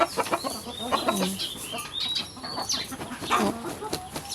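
Hens clucking and squawking close by in quick irregular bursts, with some higher chirps mixed in and a bit of faint background noise.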